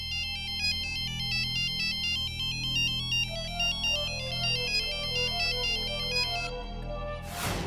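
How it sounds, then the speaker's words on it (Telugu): A phone ringtone plays at midnight, a bright repeating electronic melody that rings steadily for several seconds at close range before cutting off, with no voices over it. "సరిగ్గా అర్ధరాత్రి సమయంలో ఫోన్ మ్రోగింది"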